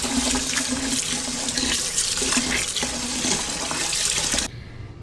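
Rice being washed in a sink under running water, a loud continuous splashing rush close by, ending abruptly near the close as the water stops.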